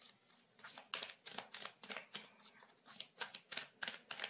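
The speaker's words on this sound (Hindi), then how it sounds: "चलिए और भी कुछ कार्ड्स लेते हैं यहाँ पर" Tarot cards being shuffled and drawn by hand: a quick series of crisp, close riffling flicks and slaps, a dozen or so in an uneven rhythm, quiet and with no voice over them.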